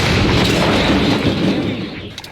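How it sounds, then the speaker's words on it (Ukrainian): A loud, sustained blast-like roar with rumbling low end from a Ukrainian artillery gun firing nearby in combat, fading out over a couple of seconds. "Гармата! Постріл!"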